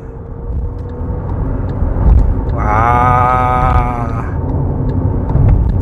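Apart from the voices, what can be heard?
electric SUV accelerating hard in sport mode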